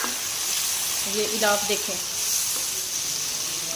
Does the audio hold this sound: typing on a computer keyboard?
no